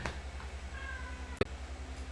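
A cat meows faintly a couple of times against a steady low hum, the calls soft and brief with a sharp click partway through.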